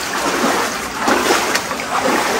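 Water pours from pipes inside Busay Cave in Moalboal, South Cebu, a continuous close splashing and spattering with a few brighter splash bursts, echoing in the enclosed space.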